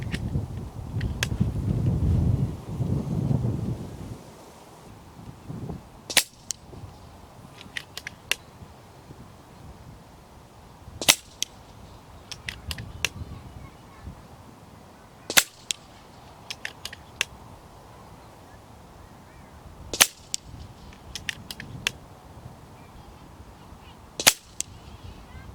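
An FX Crown air rifle fires H&N HP .217 slugs outdoors, each shot a sharp, isolated crack spaced several seconds apart, with wind rumbling at the start and a quiet background in between.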